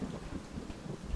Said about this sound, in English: I'm up high in a thunderstorm on a metal structure.